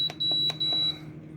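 An Emeril air fryer cooker gives a few sharp, high electronic beeps as its timer is set, two longer tones with button taps between them, close and clear over faint room hum.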